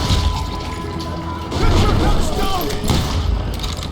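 Gunfire rattles through a Western town street in Call of Juarez: Gunslinger, loud, sharp cracks and booms layered over a dense, busy game soundscape with a voice speaking over it.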